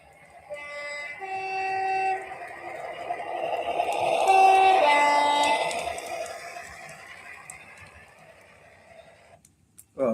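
A model American locomotive sounds its horn in a few sustained tonal notes that swell to a peak midway and then fade, over a soft rolling rumble, with a sharp knock at the very end.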